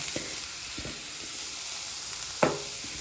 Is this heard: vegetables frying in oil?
yes